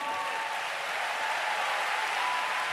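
A church audience claps for the Lord during a bilingual sermon, a steady, even roar of many hands, moderately loud and continuous with no talk over it.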